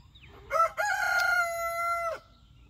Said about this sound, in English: We got roosters crowing, chickens clucking, birds a-tweeting.